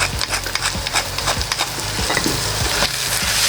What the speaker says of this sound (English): now we're gonna add the fresh ground beef, salt, pepper,